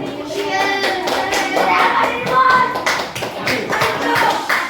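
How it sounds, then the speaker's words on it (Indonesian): Schoolchildren in an elementary classroom clap for a group of classmates, close, uneven hand claps with separate sharp strikes, while young voices chatter underneath. "tepuk tangan dulu untuk kelompok 2"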